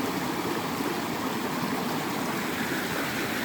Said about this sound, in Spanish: Hay un río.